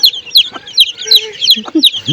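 Chickens cluck in short, repeated bursts close by on a rooftop garden, with a few lower squawks mixed in and faint background voices.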